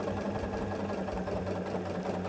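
Sewing machine stitching a quarter-inch seam on a hunter's star quilt block, a steady, fast mechanical whirring chatter that runs evenly and close throughout, with no talk.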